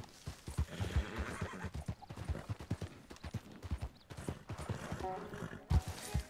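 Galloping horse hooves clip-clop in quick uneven beats in Red Dead Redemption 2, with a whinny near the end and occasional distant gunfire beneath the continuous hoofbeats.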